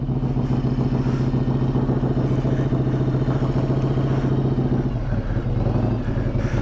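A carbureted 1994 Harley-Davidson Softail Heritage Classic idles close by, a loud, steady, lumpy low throb with a slight change in rhythm toward the end, with no voices.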